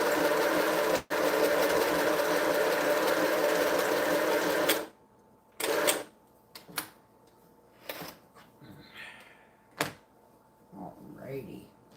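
Close-up domestic sewing machine stitching quilt top pieces in a steady continuous whir for several seconds, then stopping, followed by short bursts of stitching and handling clicks, with a person talking quietly in between.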